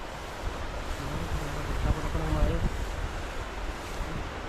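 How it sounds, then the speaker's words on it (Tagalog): Strong water current rushing past in a river with rocks, where a net is being used; a steady, loud wash of flowing water and surf-like noise fills the clip, with brief voices and some wind buffeting underneath. "Lakas ng agos."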